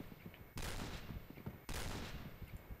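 Two sharp bursts of rapid gunfire hit loudly, each followed by a rattling tail of shots, from combat in the shooter game Point Blank.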